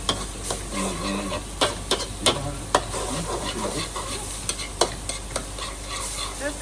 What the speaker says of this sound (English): then stir noodles cook only noodles